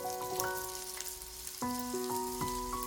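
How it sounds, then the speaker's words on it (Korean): Shrimp frying in melted butter and browned minced garlic in a pan over medium-low heat: a soft, continuous sizzle under louder background music with sustained notes. "마늘이 갈색으로 변하면 새우를 넣고"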